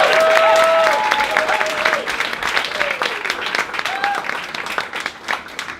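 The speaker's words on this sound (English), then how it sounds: "Can we just give all these people a massive round of applause?" A large audience at a Rotary Road to Broadway show gives a loud, sustained round of applause that eases slightly after the first second, with a few raised voices and whoops rising over the clapping.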